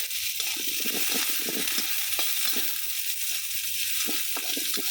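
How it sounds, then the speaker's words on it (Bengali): Garlic paste fries in a little oil, a constant bright hiss of sizzling with faint spatula scrapes underneath, close and steady throughout. "আমার রসুন পেস্টও ভাজা হয়ে গেছে হালকা তেলে ভাজাটা নিছি"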